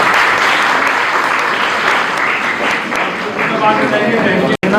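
An audience at a workshop claps steadily for a young girl, a dense, loud round of applause lasting several seconds with a faint voice underneath and a brief dropout near the end.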